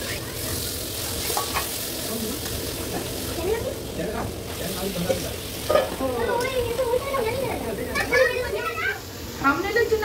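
Chicken fries in hot oil with a steady, close sizzle and scattered crackles and stirring scrapes, while someone talks over it throughout.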